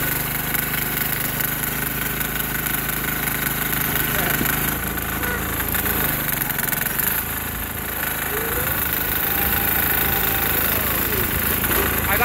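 Sears Suburban 6HP diesel tractor engine running loudly and steadily with a knocking chug throughout, out in heavy snow, with a person talking over it.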